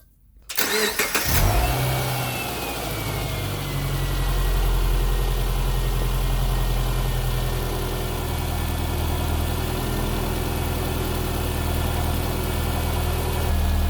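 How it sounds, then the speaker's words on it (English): A 2008 Subaru Impreza engine cranks briefly, catches and settles into a steady, close idle with a low rumbling hum that carries on evenly to the end, with no talking. "start this thing up, let it come down to idle"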